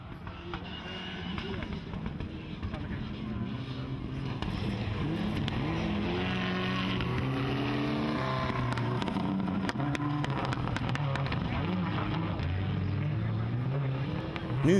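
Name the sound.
rally cars driving on a special stage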